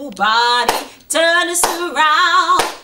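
Hands clap roughly once a second along with loud group singing of the sing-along song "Ain't Gonna Let Nobody Turn Us Around", with sharp claps cutting through the sustained voices.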